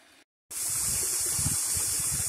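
Hot water gushes from a fenced hot spring source in Xiangkhouang province, Laos, a steady, close rushing flow that starts abruptly after a brief silence and continues evenly.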